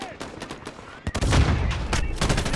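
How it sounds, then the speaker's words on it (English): Rapid gunfire in a Modern Warfare campaign played on realism difficulty: sharp overlapping shots and bursts that grow into a dense barrage of close firing. "I don't even know where they're shooting from."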